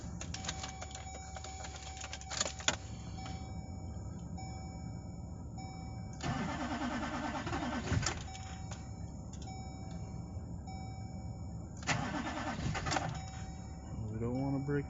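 Cold GMC diesel work truck cranking after its glow plugs warm, with two loud bursts of starter grinding and engine turnover over a steady idle-like drone and a chattering starter.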